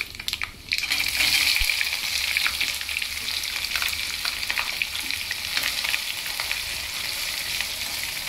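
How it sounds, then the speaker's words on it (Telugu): Chopped onion and green chili drop into hot oil for a ginger chili potato fry, setting off a loud, steady sizzle with a burst at the start and occasional stirring scrapes, and no voices. "ముందుగా కట్ చేసి ఉంచుకున్న ఉల్లిపాయ పచ్చిమిరపకాయ వేస్తున్నానండి"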